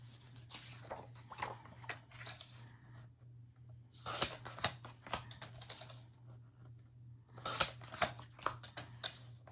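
Scissors trimming paper for a photo album, a close, quiet series of short snipping clusters separated by pauses, set against a faint steady hum.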